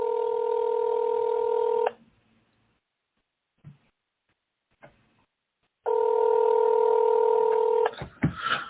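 Telephone call in progress: a steady two-tone ringback sounds twice, each lasting about two seconds with a silent gap between, separated by faint clicks, then brief noise at the end.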